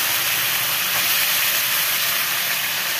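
Whole fish frying in oil tempered with cumin seeds, a loud, dense and continuous hiss of hot oil close by, steady from start to finish without speech.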